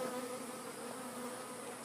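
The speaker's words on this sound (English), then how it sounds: "there are many, many angry bees" Many agitated bees buzz around a newly established hive in a dense, continuous drone, steady and fairly close, with no voices over it.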